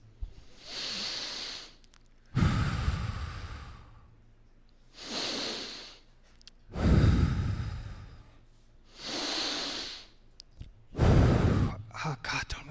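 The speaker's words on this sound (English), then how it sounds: "let's just take 3 breaths." Three deep, slow breaths taken close to the microphone, each a loud airy inhale followed by a long sighing exhale, evenly spaced with brief gaps in between.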